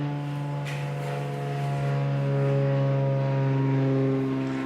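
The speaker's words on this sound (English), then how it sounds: "That is a very loud plane." A loud airplane with a broken exhaust passes overhead, a steady, rough droning hum that swells slightly midway and holds with no one talking.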